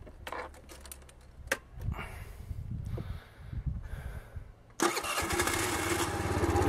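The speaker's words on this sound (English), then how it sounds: "we test the new starter relay by trying to start the scooter" A China scooter cranks in short bursts of starter whirring, then catches and settles into a steady, close idle after a newly replaced starter relay, with no talk.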